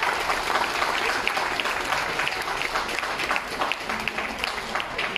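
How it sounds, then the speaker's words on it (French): Audience applause at a Leclerc auto store event in Tourlaville, a dense steady clapping from a crowd that holds at an even level for several seconds without pause. "On peut les applaudir."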